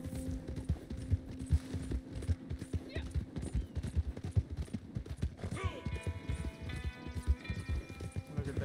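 Horse hooves clip-clop steadily in Red Dead Redemption 2 Online as a posse of bounty hunters rides out, with occasional whinnies and people talking over the rhythmic hoofbeats.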